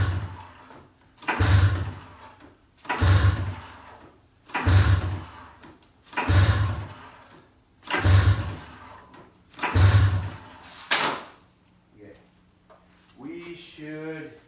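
A Pro X 800 engine being pulled over repeatedly on full choke without firing, about seven rhythmic surging pulls of roughly equal length, loud and close, before people talk briefly at the end.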